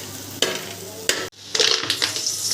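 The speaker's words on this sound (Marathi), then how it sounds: "पिंक झालेला आहे कांदा आणि त्याच्यात 2 मिरच्या कापून टाकलायत बारीक" Onion and finely chopped green chillies frying in a pan, with loud bursts of scraping stirring and a brief hiss, close and without talk.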